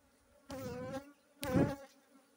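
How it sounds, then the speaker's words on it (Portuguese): Honeybees buzzing around an apiary hive during a box change, two close swells of droning buzz rising and fading, with no talk over it. "tem abelha com força, viu? Dá pra ver."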